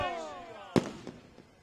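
Fireworks go off at a Dussehra celebration in Mohali, with a sharp loud crack followed by fainter pops and a fading whistle, heard outdoors over a crowd and a voice speaking through a loudspeaker.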